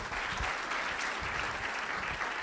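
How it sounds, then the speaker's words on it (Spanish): An audience at a panel discussion on Uruguay's entrepreneurship law applauds a speaker, a brief burst of dense, steady clapping from many hands in a hall, without talk. "Leonardo, un aplauso para ti"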